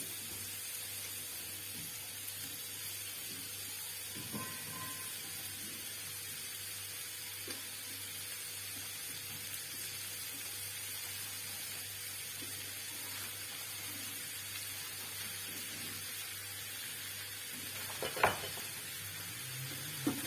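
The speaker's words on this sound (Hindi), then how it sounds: "अब इसके अंदर मैं आलू ऐड करूंगी।" Potatoes go into peas frying in a pan and are stirred in, giving a faint, steady sizzle with soft scraping and a brief louder clatter near the end; nobody speaks.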